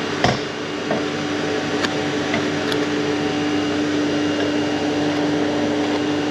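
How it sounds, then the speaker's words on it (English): An air compressor runs nearby during work on a Volkswagen Transporter T4's front wheel arches, a loud, steady mechanical drone with a constant hum and a few faint knocks. "So compressor's running, it will turn off in a minute."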